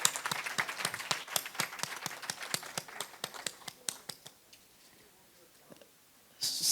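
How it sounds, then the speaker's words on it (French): Audience applause at a school testimonial event in a girls' lycée, a brisk run of fairly close, rhythmic claps that thins out and fades, followed by quiet and then a sudden noise at the end. "Ça s'applaudit, ça."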